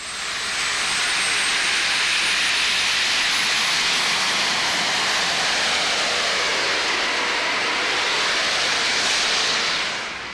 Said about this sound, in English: That's the sound of 2 T-53 Lycoming helicopter engines.